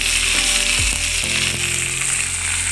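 Curry leaves, fenugreek and chillies crackle in hot oil as a tempering for a yam-stem tamarind curry, a loud continuous sizzle close up with a steady low hum beneath and no voices.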